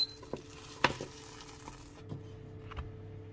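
Butter melts in a hot pan with a soft sizzle, marked by a few clinks of utensil on pan and a faint, fading fry in a quiet kitchen.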